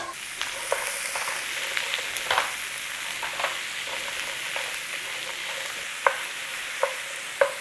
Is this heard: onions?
yes